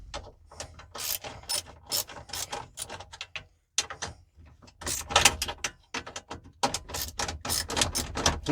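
A ratchet with a 9/32 socket loosens bolts in a 2005 GMC Sierra, producing rapid close clicking bursts in several runs with brief pauses, loud and crisp with no talk.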